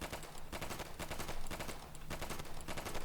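Rapid automatic gunfire in the World War II shooter Easy Red 2, firing toward a target near sandbags, a continuous rattling burst of shots, fairly faint and without speech.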